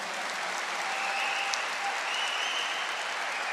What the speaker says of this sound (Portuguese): Vamos dar uma salva de palmas à Mãe do Céu